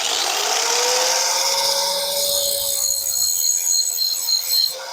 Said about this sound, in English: Switch back to a regular grinding wheel, and I'll bevel the sides.